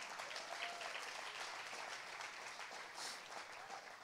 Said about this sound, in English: clap for the Lord here this morning